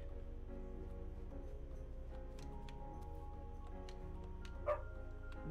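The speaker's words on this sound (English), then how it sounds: "Dog!" A dog barks in the video game Calico over steady background music, with a short bark near the end standing out from the soft, continuous tune.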